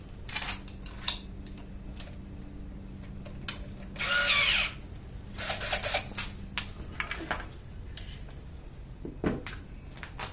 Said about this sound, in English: let's start drilling some holes. Do the 1/2 inch one first.